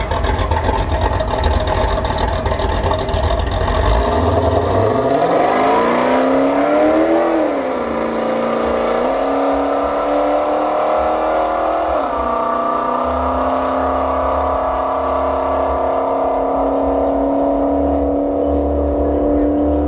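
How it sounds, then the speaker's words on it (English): A third-generation Pontiac Firebird launching down the drag strip at Bradenton Motorsports Park: an idling engine rumble swells into a loud, rising roar that climbs through the gears and holds a strained, sustained howl until the end. "this is the last vehicle I'm going to be recording for tonight, everybody. The 3rd gen Firebird."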